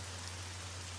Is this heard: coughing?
no